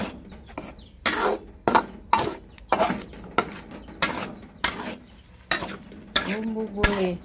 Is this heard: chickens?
no